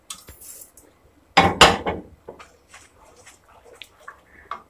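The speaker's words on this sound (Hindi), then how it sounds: "तो इसमें मैं शुगर डाल देती हूँ" A spoon stirs sugar into milk for mango kulfi, giving a burst of loud metallic clinks and scraping against the vessel, followed by softer scattered taps and clatters.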